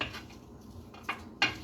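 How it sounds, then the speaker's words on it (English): Potatoes for a seafood casserole are stirred in a pot, giving a few soft scrapes and two sharper metallic clinks of utensil against the pot, close and fairly quiet with no talking. "I'm just stirring up the potatoes to get everything coated as I can"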